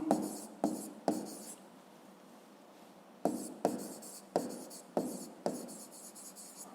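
Pen or chalk writing by hand while working a fifth-grade math exercise: bursts of scratchy strokes, a few quick marks then a quiet pause and a longer series of separate strokes, close and fairly loud with no talking.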